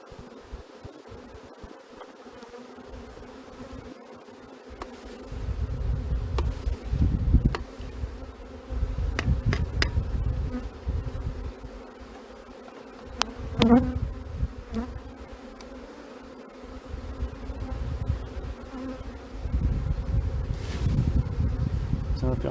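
A dense, steady buzz of a honeybee swarm close by, rising and falling in loudness with occasional louder passes.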